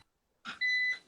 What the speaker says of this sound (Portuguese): Porque está com um bip aí.